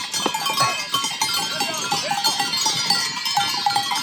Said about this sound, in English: I know there's nothing crazy about someone's goats on a trail